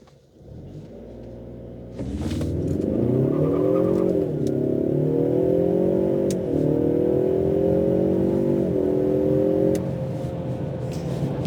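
A 2022 EcoBoost Mustang Premium pulls away hard after a quiet idle, its engine rising in pitch through the gears with brief dips at each shift, loud and close for around ten seconds before the revs ease off.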